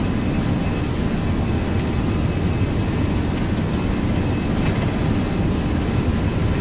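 An aircraft in an online flight simulator rolls for takeoff, its jet engine giving a steady, loud, broadband roar that holds constant throughout with no voices over it.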